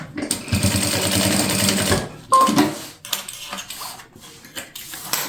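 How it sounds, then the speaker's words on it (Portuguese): Sewing machine stitching a safety seam through plastic fabric for a toiletry bag, a brief rapid whir of stitching up close, then small clicks and handling noises. "faço uma costurinha de segurança"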